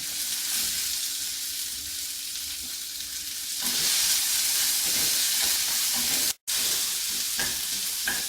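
Urad dal, dried red chillies and onions frying in oil for a tomato chutney: a dense, continuous sizzle that grows louder about halfway through, cut briefly by a short gap, with no voices.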